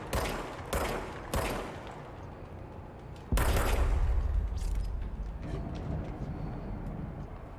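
Gunshots from a weapon in the video game Control: a few sharp, loud single blasts, then a heavier sustained volley with rumbling echoes that fades into game ambience.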